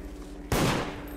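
Players shooting each other in the game Deceit: a sudden loud, close burst of gunfire cuts across a low background hum, then a second short shot follows.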